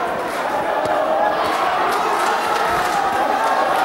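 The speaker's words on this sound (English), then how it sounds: "This is a boxing crowd, dude. They love the fight game here." A boxing crowd at the Orient Theatre roars and cheers steadily as a continuous wash of voices, with sharper shouts poking through.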